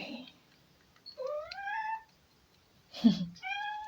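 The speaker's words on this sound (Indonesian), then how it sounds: "Ini ada kucing saya ya." A house cat gives several drawn-out meows close by, in separate calls with quiet gaps between them, and a brief voice is heard alongside.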